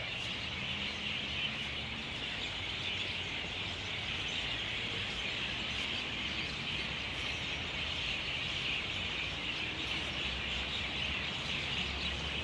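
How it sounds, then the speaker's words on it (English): A dense, steady chorus of bird chirping fills a city park in Kokand, Uzbekistan, continuous and fairly loud throughout with no pauses, set against a faint low background hum. "As the bird is going ham."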